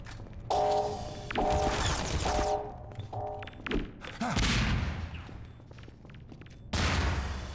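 Automated turrets in Half-Life 2 fire in loud, rapid mechanical bursts, several volleys a few seconds long separated by brief pauses, with clanking mechanism noise and impacts between them.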